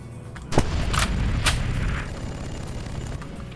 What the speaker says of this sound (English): A single shot shotgun.